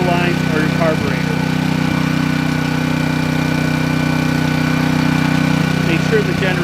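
A Black Max 3000-watt portable gas generator runs at a steady idle, its engine hum droning loud and unbroken throughout with a faint rattling vibration on top.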